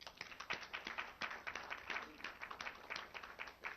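Audience at a League of Women Voters county supervisor candidate forum applauding, a steady patter of many hands clapping in a small room at modest volume, alone without talk.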